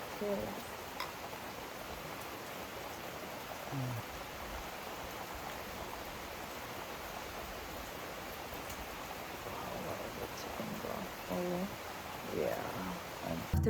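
Rain falls steadily outdoors, a soft, even hiss of drops that carries on without a break, with faint scattered taps on top.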